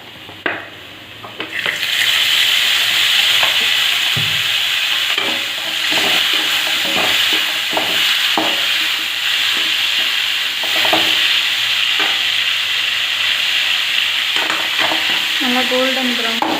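Onions sautéing in oil in a pan, with a steady, loud sizzle throughout and stirring scrapes that recur irregularly, with no talking.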